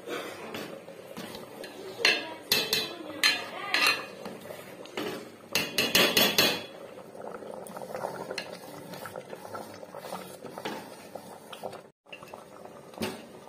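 Clattering of a metal spoon against a cooking pot while khichuri is stirred in a home kitchen, with irregular scraping and knocking bursts over a low bubbling background, close and fairly loud.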